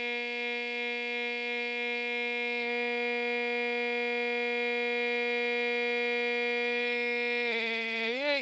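A fire alarm sounds after being pulled, a steady harmonic electronic tone held continuously at even loudness, wavering briefly at the end, with no voices.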